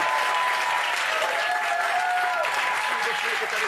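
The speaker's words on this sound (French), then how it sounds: "J'aurais qu'on l'applaudisse." Applause rises from a TV studio audience, steady and full for a few seconds, with a faint tonal voice or cheer drifting through the middle.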